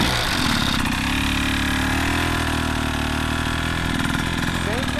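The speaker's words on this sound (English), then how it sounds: "If you listen to my bike here," A motorcycle engine idles steadily with the clutch held in the friction zone, a loud continuous close-up rumble with a faint rise in pitch near the end, while someone talks over it.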